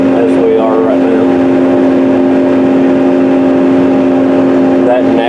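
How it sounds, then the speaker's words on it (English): A Case IH tractor drones with a steady, even engine hum from inside the cab while planting corn with an Early Riser planter. A person talks loudly and continuously over it. "That's the tractor actually going across there as we are right now."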